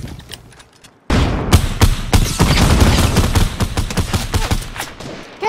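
Rapid gunfire in the battle royale game Fortnite, with dense bursts of shots and sharp cracks firing in quick succession, loud and close, starting after a brief quieter opening and continuing steadily to the end.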